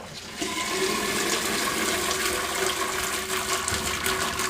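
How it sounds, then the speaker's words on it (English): Boiled sweet potatoes being drained into a colander in a kitchen, a steady loud rush of pouring water that runs continuously for several seconds. "I'm just going to remove from the heat and we're going to strain it."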